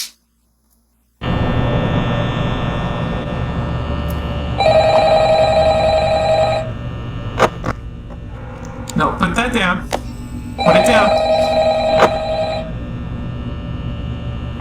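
A telephone rings in the Five Nights at Freddy's pizzeria security office, two loud electronic ring bursts over a steady hum, with a person talking between them.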